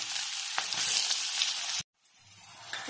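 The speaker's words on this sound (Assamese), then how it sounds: "এতিয়া ইয়াত তেলতে মই দি দিম পিঁয়াজ।" Sliced onions hit hot oil in a pan just used for frying eggs, giving a loud, close, steady sizzle for nearly two seconds before cutting off sharply to near silence.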